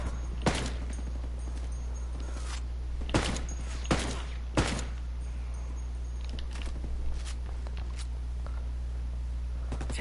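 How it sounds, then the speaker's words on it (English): Sparse gunfire in Ghost Recon during a ranked 4v4 PvP match, with about four sharp shots spaced over the first five seconds and a few fainter pops afterward over a steady low hum. "Taking heavy fire."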